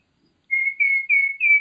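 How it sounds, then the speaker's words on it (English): Four short, high-pitched kiki notes made with a turkey whistle call, clear and close, each slightly rising and run quickly together in an even rhythm. "You're going to hear me doing kikis just with my whistle."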